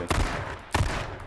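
Two sharp gunshots from the video game H1Z1, spaced about half a second apart, each a short loud crack followed by a fading tail, with no talking.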